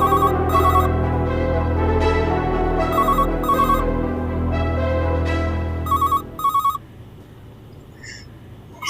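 A telephone rings in repeated electronic bursts, loud and close, with a low hum underneath that stops partway through, leaving quiet.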